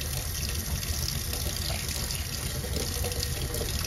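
Hot water from a tankless water heater running out of a tap, a steady hissing rush of flowing water into a sink, continuous and moderately close, with no voices.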